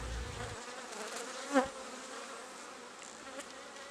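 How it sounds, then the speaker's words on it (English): Honeybees at an outdoor bee project in Tonga make a faint, steady buzzing drone, with one insect passing close and briefly louder partway through. "The bees themselves, they are the best pollinators in all of wildlife."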